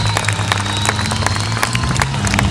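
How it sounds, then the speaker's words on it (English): A crowd at an outdoor tank display of the Albus Fighting Vehicle Society applauds steadily, with dense clapping and a low engine rumble beneath. "Let's all give a fantastic round of applause to Mr. Andrew Baker and the Albus Fighting Vehicle Society"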